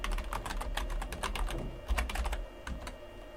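Fast, steady typing on a computer keyboard, crisp close key clicks tapping in quick bursts with brief pauses, alone without talk.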